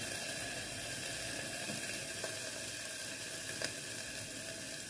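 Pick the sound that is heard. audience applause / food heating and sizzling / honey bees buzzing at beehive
food heating and sizzling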